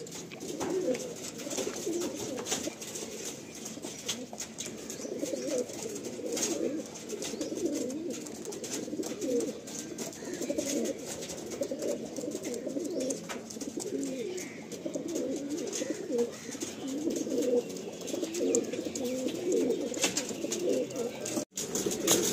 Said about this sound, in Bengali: আমি এই পায়রাগুলো ছাড়লাম